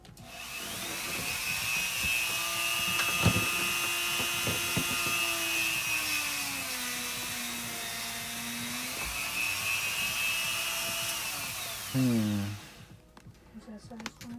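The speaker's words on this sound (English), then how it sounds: "Dremel, a dentist ASMR," Dremel rotary tool used on a painting project, a continuous close high-pitched whine like a dentist's drill whose pitch dips and rises as it bears on the work, then stops with a clatter near the end.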